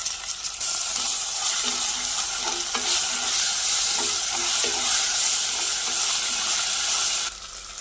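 Ginger paste fries in a covered pan, a steady, loud, dense sizzle and hiss with light stirring clatter throughout, cutting off abruptly near the end.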